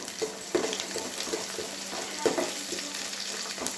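Onions and green chillies fry in hot oil for bagara rice, giving a steady close sizzle with a few small pops and stirring scrapes throughout.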